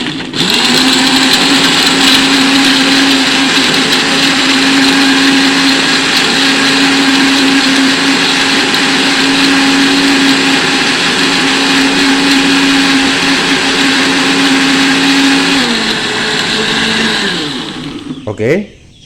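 A blender whirs continuously as it purees chicken medicine ingredients mixed with water, a loud steady motor whine holding for many seconds before spinning down abruptly at the end.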